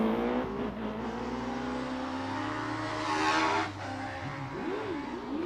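Race car engine at the British Hill Climb Championship at Doune revving and launching off the line nearby, pitch climbing through gear changes with a stuttering moment before it pulls away.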